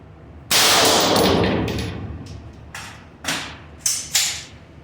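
A shot strikes a Steel Ops steel armor plate propped in a plate carrier, giving one loud, close metallic clang-bang that rings and decays, followed by a few quieter knocks and rattles.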